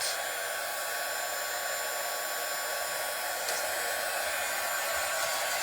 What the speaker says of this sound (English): Heat gun, I'm going to dry it